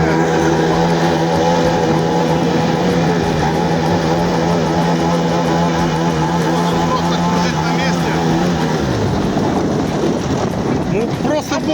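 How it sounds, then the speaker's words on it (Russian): A rough-running boat motor drones loudly and continuously, with wind buffeting the microphone and the engine pitch shifting toward the end. "Мотор немножко барахлит из-за этого"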